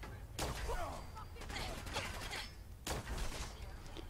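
Scattered gunshots and clattering bursts in Fallout 4's Automatron add-on, fairly faint and mixed with game noise and a voice, with a sharper crack near the end.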